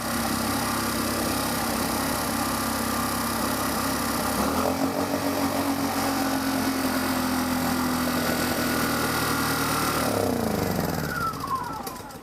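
A portable generator, just repaired, runs at a steady idle with an even, continuous mid-pitched engine drone that stays loud and close throughout, with a slight shift in tone partway through and no talking.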